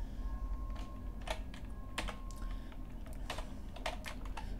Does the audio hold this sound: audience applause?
no